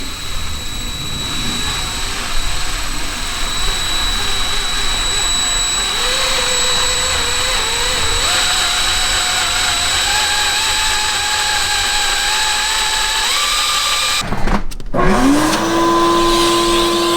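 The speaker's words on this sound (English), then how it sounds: "Now we're just gonna drill right there." A steady high-pitched power tool whine fills the space while a hole is drilled in a K20-swapped Honda EK for a Hybrid Racing shifter, its pitch rising in steps, then a brief loud burst and a lower, settling tone.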